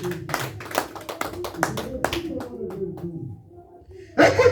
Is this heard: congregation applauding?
yes